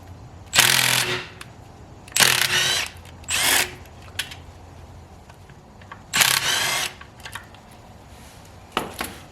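Power tool spinning out Allen head bolts on a ZF5 transmission case during disassembly, heard as about five short whirring bursts with pauses between, fairly loud and close, with no talking.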